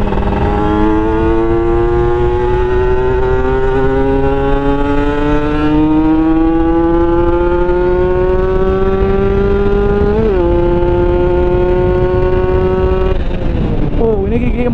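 Motorcycle on a test ride with a PWK 28 carburetor, engine loud and close as it accelerates in fourth gear, pitch rising steadily before a shift near the end.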